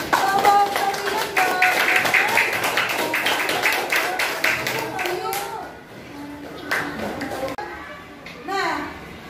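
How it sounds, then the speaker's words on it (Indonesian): A classroom of schoolchildren claps for their teacher in a burst of quick, uneven hand claps close by. Children's chatter runs throughout, and the clapping thins out and fades about halfway through. "Tepuk tangan dulu untuk Bapak Kalian"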